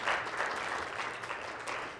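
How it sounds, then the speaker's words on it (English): An audience applauds steadily at a Weslaco High School ceremony honoring students selected as Texas Girls State delegates. The dense, even clapping from a room full of people carries through the whole stretch without talk. "So round of applause for our ladies one more time."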